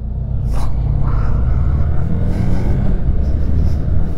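A Hero motorcycle's engine rumbles loudly and continuously while riding, with a brief change in pitch near the start as gears shift, and no talking.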